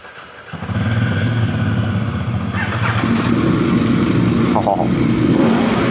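A motorcycle engine cranks and catches, then settles into a steady, loud idle close by, with a brief rise in revs partway through and light background noise.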